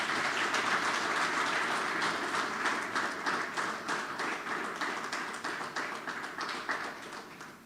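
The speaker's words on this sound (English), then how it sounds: "Another big round of applause for the author of the book." A book launch audience gives the author a sustained round of applause, dense overlapping clapping that stays loud and then gradually thins toward the end.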